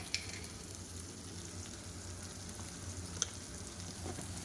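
Tomato, ginger and salt fry in a pan for a chicken kosha, giving a soft, even sizzle at low volume with two brief clicks of a utensil against the pan.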